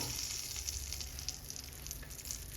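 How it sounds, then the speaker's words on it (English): Eggs fry in oil with burnt curry for a Jamaican-style curry egg, giving a steady, close crackling sizzle that holds evenly throughout with no talking. "So it's like I'm frying my eggs in the oil."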